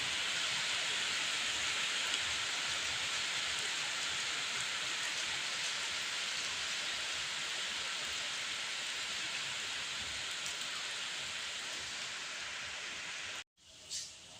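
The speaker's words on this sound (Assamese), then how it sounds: "ধাৰাসাৰ বৰষুণ একদম।" Heavy torrential rain pours down in a steady, dense hiss close by, loud and unbroken for most of the stretch before cutting off abruptly near the end.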